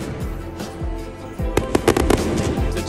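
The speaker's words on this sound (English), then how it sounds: "that little fireworks tonight" Fireworks at a ballpark go off in a burst of booms, starting with a few spaced thumps and then a rapid cluster of loud cracking pops nearby.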